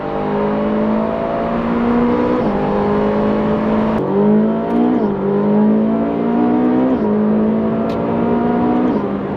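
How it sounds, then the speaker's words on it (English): A Mercedes-AMG GT R sports car roars loudly and steadily at close range, its engine note dropping and climbing again through several quick gear shifts. "AMG GTR's flying by."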